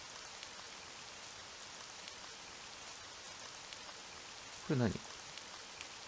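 Rain falls outside in a Japanese horror game, a soft, steady hiss that runs throughout, briefly interrupted by a short spoken question near the end.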